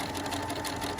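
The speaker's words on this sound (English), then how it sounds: "I have shortened my stitch length, so make sure you do that on your sewing machine." A sewing machine runs a short burst of fast, steady stitching along a line on a paper piecing template for a snowman quilted table topper, a close, continuous whirring buzz with no voices.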